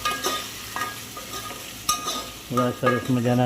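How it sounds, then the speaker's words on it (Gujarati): Potatoes, peas, chillies and onion fry in a spiced tempering of cardamom, mace, star anise and bay leaves for vadi pulao, a close sizzle broken by clattering stirring strokes that grow louder and more rhythmic near the end. "બટાકા, વટાણા, મરચાં, ડુંગળી અંદર શેકાવા નાખી દીધા"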